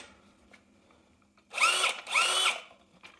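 A power drill fitted to an ice fishing auger whirs in two short bursts, each about half a second, spinning up and winding down close by in a quiet room.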